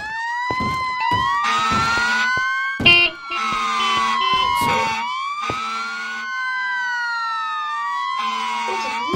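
Fire truck sirens wailing loud and close, rising and falling tones layered with bursts of horn-like blasts that repeat throughout, a chaotic overlapping chorus of emergency sirens.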